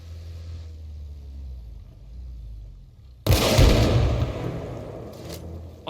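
A vehicle in the video game Arma Reforger, first a low distant rumble, then a loud burst of engine roar and road noise as it passes close by before fading slightly.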